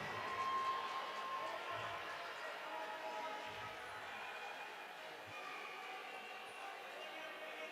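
Roller derby crowd at a flat track bout, a broad wash of cheering and shouting that stays fairly faint and distant throughout, with voices talking over it.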